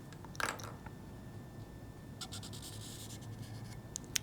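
A felt marker scratches along the bevel of a knife edge in a few short, soft strokes, close and quiet against a faint background hiss.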